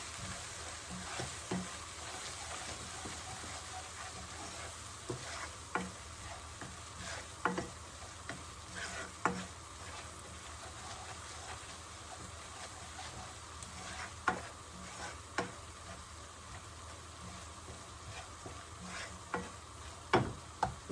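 Spices with cumin powder frying in a pan for Bihar-style dal, a continuous soft sizzle punctuated by frequent spoon scrapes and taps from stirring, quiet and close, with no voices.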